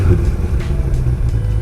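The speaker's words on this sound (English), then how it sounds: "it's definitely not going to be loud unless you get that performance exhaust" A 2023 Corvette C8 with the performance exhaust set to loud mode gives a steady, deep, close rumble that holds at an even level throughout the short stretch.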